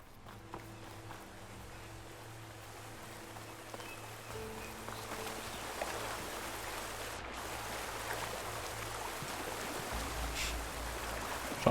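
Steady rushing water from a small waterfall in the video game Horizon Forbidden West, a continuous broadband splash that holds at a moderate level for the whole stretch, with light footstep-like taps and soft game tones underneath.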